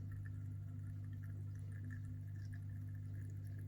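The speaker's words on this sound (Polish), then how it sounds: "Widać jak woda pięknie do środka wlatuje." Water pours steadily into an AquaBlue TO-300 aquarium surface skimmer, a soft, continuous trickle layered over a low, constant pump hum, with no voices.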